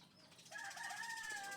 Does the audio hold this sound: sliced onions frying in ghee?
no